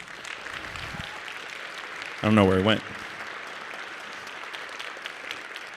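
An audience at a school concert band and wind ensemble concert keeps up a steady patter of applause, while a brief spoken remark cuts in over the clapping midway.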